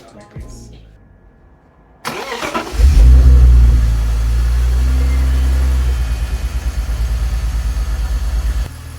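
A BMW E46 engine cranks and fires up for the first time after maintenance with new belts, gaskets and filters, catching with a loud rev before settling into a steady, slightly pulsing idle close by.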